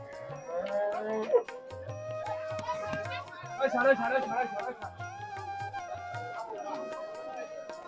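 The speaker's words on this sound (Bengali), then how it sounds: "বিশাল বড় বড় গরু।" Cows mooing at a busy cattle market ahead of Eid in Rajshahi, several low drawn-out moos rising among nearby chatter and market noise, with people talking throughout.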